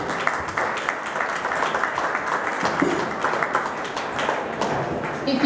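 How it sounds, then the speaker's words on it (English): Sustained applause from a sizable crowd at an outdoor community festival, many hands clapping at once, loud and continuous with a few scattered voices mixed in. "I think that deserves a huge round of applause"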